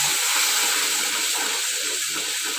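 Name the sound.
whole garam masala spices sizzling in hot oil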